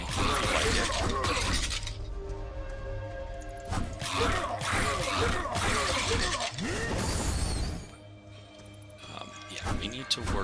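In the video game Children of Morta, pots shatter over and over amid busy clattering combat, with crunching breaks that come nearly constantly and ease off briefly before the end. A voice talks over the action.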